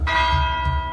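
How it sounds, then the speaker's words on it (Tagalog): A single church bell rings out, close and loud, its bright metallic tone sustaining steadily as it holds for about a second. "Huwag niyo nang hintayin ang pangalawang tunog ng kampana."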